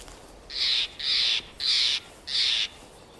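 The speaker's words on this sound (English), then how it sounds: "the piercing call of a Steller's jay cuts through the winter air like a crystalline bell" Four harsh, raspy Steller's jay calls in a steady rhythm, each about a third of a second long, clear and fairly close against quiet winter outdoor ambience in Yosemite.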